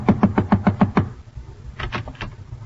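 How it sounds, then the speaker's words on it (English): A radio-drama sound effect of knocking at a door: a quick run of six sharp, close knocks, then a pause and a few softer taps. "knocked at my door"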